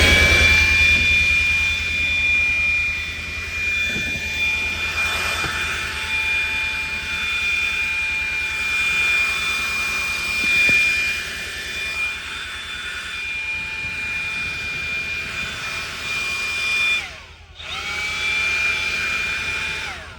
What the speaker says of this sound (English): We use the DeWalt blower. This works great. 20 volt, does the job.